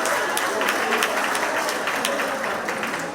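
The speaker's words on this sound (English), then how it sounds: "So give yourselves a round of applause for that." A room full of people applauding at a TTARP Purple Diamonds monthly meeting in a Pleasantville community hall, a dense, even wash of clapping held steady throughout.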